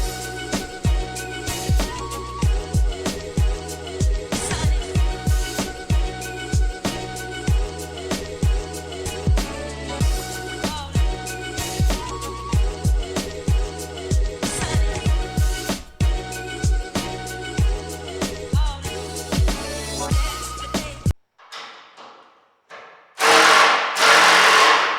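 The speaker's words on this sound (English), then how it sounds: "I personally here, I'm going to use my impact so I can get this done as quickly as possible." An impact wrench loosens and removes the bolts on an engine lid fan shroud, hammering in loud rapid rhythmic bursts for about twenty seconds, then a brief pause before one last strong burst.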